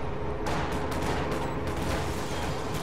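Katyusha rocket artillery fires in Company of Heroes 2 as a loud, dense barrage of rapid launches and blasts that blur into continuous rumbling, with repeated sharp bursts throughout.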